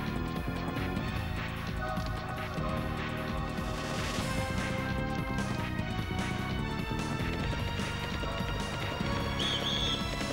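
Hooves of a horse in The Legend of Dragoon video game clip-clop at a steady gallop while the horse whinnies, set against a loud, busy background of music and effects.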